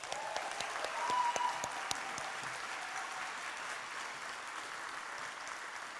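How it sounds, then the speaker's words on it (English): At a 2022 College of Liberal Arts graduation ceremony, the audience applauds the Master of Arts graduates with steady, moderately distant clapping. A few sharper claps stand out near the start, and the applause continues throughout. "so a round of applause for all of our Master of Arts."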